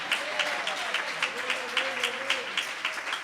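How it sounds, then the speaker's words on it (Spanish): A church congregation claps in a steady rhythmic beat, moderately loud and reverberant, with voices and singing faintly underneath. "Denle ese aplauso al Señor."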